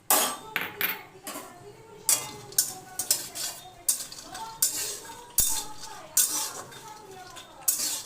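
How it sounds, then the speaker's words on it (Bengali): Peanuts are dry-roasted and stirred in a pan, with sharp metallic scrapes and clinks of a spoon against the metal coming in uneven bursts, close and fairly loud, without talking. "চিনাবাদামগুলো ভেজে নেব।"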